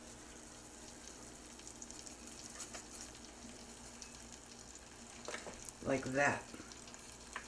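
Blackberries simmering in a pan with a pinch of salt, a low steady bubbling hiss that ends in a short burst of stirring near the close, with a brief spoken remark.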